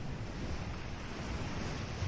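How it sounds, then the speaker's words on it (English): Waves lap against a beach shore under a nearly full moon, a steady, soft wash of surf with low rumble and some wind noise, continuous and fairly quiet with no voices. "The waves gently lapped against the shore, a peaceful sound that Tabasco would always cherish."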